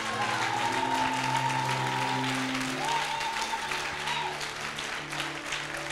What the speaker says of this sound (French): Donne une offrande d'acclamation à Jésus.